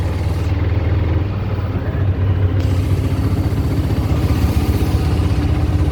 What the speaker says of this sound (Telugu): We are in typical Chennai auto.